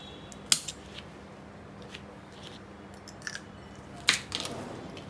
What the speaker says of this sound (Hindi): अब ये देखिए इस तरीके से काट दिया मैंने इसे